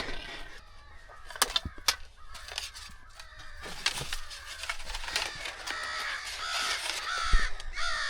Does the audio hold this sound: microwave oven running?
no